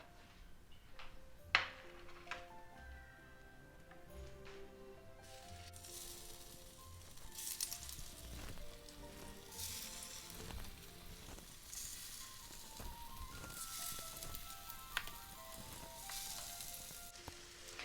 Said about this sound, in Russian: Жарим до золотистого цвета обе стороны.